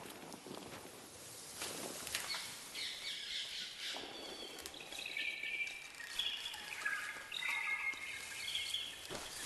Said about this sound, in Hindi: वो पंछी जिनकी आवाज देश के बाकी हिस्सों में सुनाई नहीं देती।